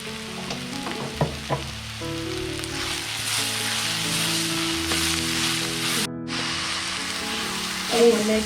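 Onion, ginger and garlic sauté in hot oil for a chicken curry, a steady close sizzle of frying with occasional stirring clinks and a low hum running underneath throughout.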